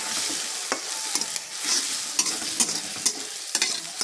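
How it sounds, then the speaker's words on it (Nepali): Egg frying in a pan, a steady close hiss of sizzling oil with repeated clicking and scraping stir strokes throughout, no talking. "अन्डा हालिसकेपछि चाहिँ यसलाई म फ्राई गर्छु।"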